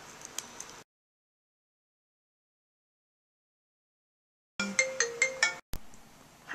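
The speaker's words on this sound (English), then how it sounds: "My phone went ringing and I had to get it" A mobile phone ringtone plays in short, evenly spaced bright chimes, fairly loud and close, after a silent gap, with a sharp click near the end and no talking.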